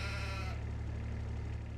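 Sheep bleating in the Farming Simulator video game, a steady sustained bleat at the start that fades into a continuous low drone and background hum, fairly near and alone without talk.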